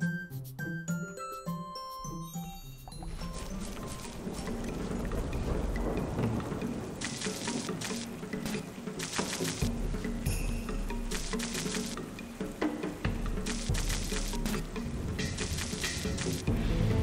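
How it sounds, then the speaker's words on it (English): Steady rain falling in the farming video game Fate, a dense hiss of droplets with tinkling accents, preceded by a few seconds of soft chiming music. "This is a good day to plant, too, because it's raining."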